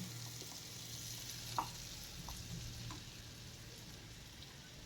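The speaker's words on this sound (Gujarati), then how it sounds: "ફરી પાછું આપણે મિક્સ કરી દેશું" Sweet potato dry bhaji with lemon juice frying in a pan over a low flame and being stirred, a quiet steady sizzle broken by a few soft spoon clicks.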